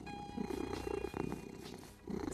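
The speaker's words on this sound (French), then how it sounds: "C'est toi qui le fais ronronner comme ça?" An animated cartoon cat purrs softly and close up, a gentle rhythmic rumbling with short pulsing breaths, fairly quiet and uninterrupted by speech.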